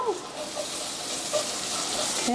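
Onions frying in a pan with a little ginger garlic paste added, a soft steady sizzle with faint bubbling and occasional light clinks, fairly quiet throughout.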